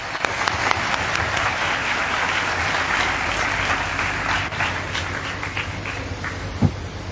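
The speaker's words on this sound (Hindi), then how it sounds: "जोरदार तालियों के साथ" Hearty applause from a church congregation at a Catholic confirmation ceremony in a parish church, many hands clapping steadily for several seconds with a few sharper individual claps, and no speech over it.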